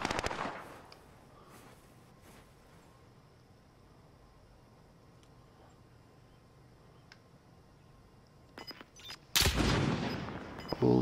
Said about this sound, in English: Someone's shooting at me? Oh my god, I'm being shot.